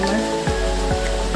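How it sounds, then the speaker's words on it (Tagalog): Rain falls on a cabbage farm during harvest, a brief, dense patter with a few sharper drop taps over a constant hiss. "Guys, inabutan tayo ng ulan ngayon."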